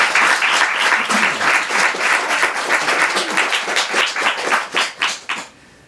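An audience claps to vote for one of two poems in a waka poetry event, with a strong, rhythmic burst of close clapping that tapers off into silence.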